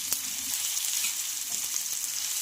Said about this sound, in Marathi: याला छान असं गुलाबीचा रंगावर परतायचं आहे